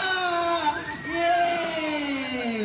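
A young audience at the opening of a school library competition cheers and shouts in long, sustained, high voices, loud and close, with a slight swell midway.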